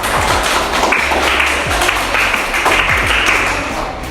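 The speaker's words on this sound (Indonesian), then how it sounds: "Tepuk tangan untuk kalian kelompok" A classroom of students applauds a student group, dense steady clapping filling the room at moderate loudness, with a few louder thumps mixed in.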